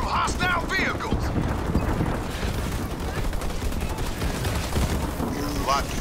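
Gunfire crackles continuously in Halo Wars 2 as Marines come under attack from hostile vehicles, a dense, loud barrage of shots and blasts running throughout with brief voice calls over the top.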